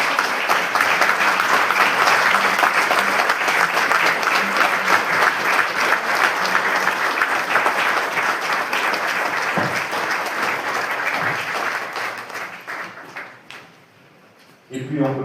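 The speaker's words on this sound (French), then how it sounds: "Vous êtes déjà fatigué D'applaudir." A congregation applauds during a confirmation service in a parish church, a long sustained burst of many hands clapping that gradually fades away near the end before a brief final sound.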